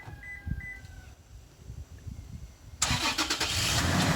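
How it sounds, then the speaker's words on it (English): A Toyota 4Runner truck starts by remote start: a few faint electronic beeps first, then a quiet pause before the engine cranks and catches into a loud, steady idle close by. "The truck starts."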